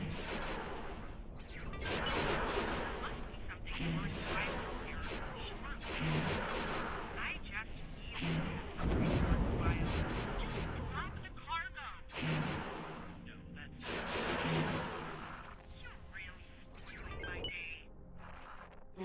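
Modded weapon effects in the space game X4, including a Neutron Star Cruiser's turrets: repeated heavy booming blasts and whooshing shots in uneven bursts, with voices talking over them.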